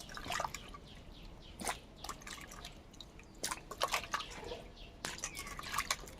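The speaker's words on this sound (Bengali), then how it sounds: "একটা গামলাতে আমি জল নিয়েছি, পরিষ্কার জল। এখান থেকে আমগুলো ধুয়ে এই জলে দিয়ে দেব।" Mangoes are washed in a bowl of clean water, with soft irregular drips, splashes and trickles close by at low level, no talking.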